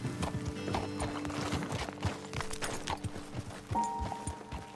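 Horse hooves clip-clop in Red Dead Redemption 2, a brisk rhythmic run of close hoofbeats with a whinny and a musical tone over it.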